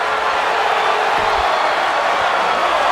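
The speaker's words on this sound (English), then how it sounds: "The fans here in the crowd on their feet" A wrestling arena crowd in WWE 2K23 roars steadily, a dense wash of cheering and noise with a few thuds underneath, continuous and fairly loud throughout the stretch.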